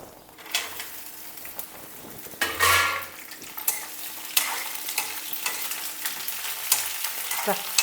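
Okra (bendakaya) sizzles and spits in a very hot pan, with a constant crackling hiss and a metal spoon scraping and stirring against the pan at close range.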